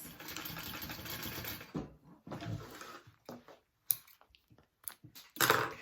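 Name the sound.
sewing machine basting connectors on a tote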